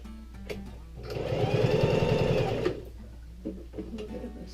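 A sewing machine runs a short straight stitch across a scuffed area of a pants patch, a steady close mechanical whir with a rapid needle rhythm lasting about a second and a half, with light handling noises before and after.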